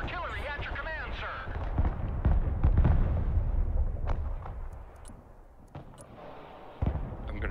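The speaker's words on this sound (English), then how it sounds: "fire on one now. Artillery at your command, sir." Artillery fire in the video game Broken Arrow, with a run of booming blasts and sharp cracks of varied loudness, some near and some distant.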